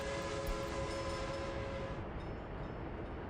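Train in the city-building game Workers & Resources, a steady mechanical rumble with a sustained tonal hum that thins out midway, heard alone at moderate volume.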